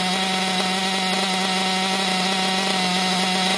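A Losi LST XXL RC truck's small nitro engine idles steadily, a loud, close, buzzing drone with no pause.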